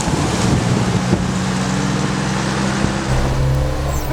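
A 1962 Toyota Stout pickup crawls along in low first gear, its engine a loud, steady droning rumble with wind noise washing over the microphone throughout.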